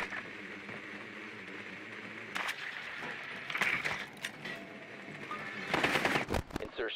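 Gunfire in Rainbow Six Siege, heard as scattered sharp shots and short rapid bursts over a quiet, steady background hum, the volleys clustered toward the middle and end of the stretch.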